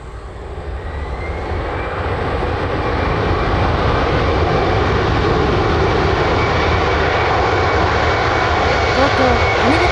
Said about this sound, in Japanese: 東京羽田空港から ANA機 NH533 便が到着しました。